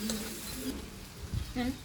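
Taro sautés with ground spice paste in a pot, a faint, soft sizzle and stirring scrape under a person talking nearby.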